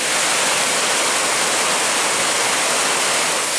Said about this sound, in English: we got a little bit better view of Devil's Kettle Falls